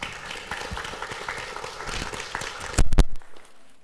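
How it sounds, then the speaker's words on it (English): A church congregation claps during a Sunday service, scattered applause from many hands rising to a louder burst near the end before stopping abruptly, with faint room noise after. "You can clap for that."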